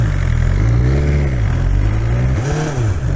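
A BMW S 1000 XR motorcycle engine runs loud and close, its droning pitch rising, then dipping sharply at two gear shifts before climbing again.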